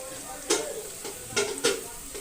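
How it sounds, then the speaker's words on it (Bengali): Leafy greens dropped into a hot frying pan hiss and crackle, with a few sharp sizzling bursts rising over a steady low frying noise, close and moderately loud, with no talking. "এখন আমি বর্তমানে শাকটা ছেড়ে দেব"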